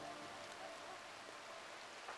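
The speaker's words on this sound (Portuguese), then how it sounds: "Chuva com nevoeiro torando." Rain falling steadily with fog in RimWorld, a constant soft hiss of drops with no voices, even and unbroken throughout.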